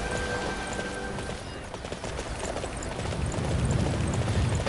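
Horse hooves clip-clopping in a video game, a run of soft rhythmic steps set against a busy, rumbling background that grows heavier toward the end.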